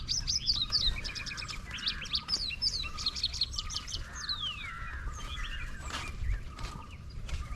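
Birds chirping and calling nearby in an outdoor spot in Kannur where pigeons are walking about, a run of bright repeated tweets that thins out, with light rustling in the background.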